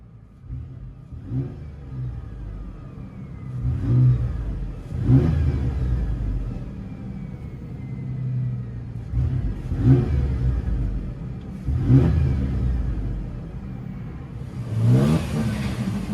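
Inside a 2006 Ford Ranger pickup, a 3.0L V6 dual exhaust with Cherry Bomb glasspack mufflers revs up several times in bursts, rising and falling over a rumbling idle, loud and close.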